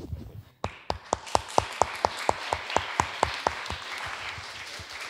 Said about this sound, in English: you need a stronger applause